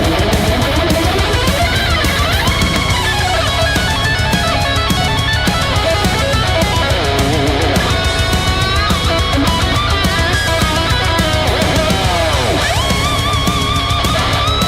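Metal electric guitar solo, shredding a fast run down the fretboard with bending, squealing lead lines over a loud, dense, full band throughout.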